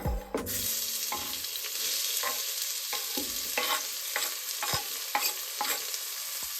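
Steady hiss of onions and scallions frying in hot oil, broken by scattered scrapes and clinks as they are stirred in the pan.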